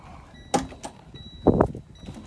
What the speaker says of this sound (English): I'm going to open my compartment door